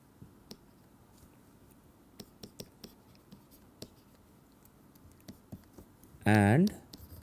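Chalk or pen taps and strokes sound in sparse, irregular bursts as equations are written by hand during a physics lecture, close and fairly quiet, with a short loud tonal burst near the end.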